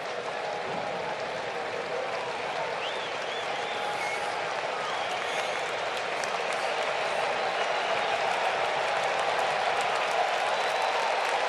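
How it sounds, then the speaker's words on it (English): A big crowd at a Nationals vs Braves baseball game fills the stadium with a continuous roar of cheering and clapping, heard at a distance and holding steady loud throughout. "First time this big crowd's made some noise tonight"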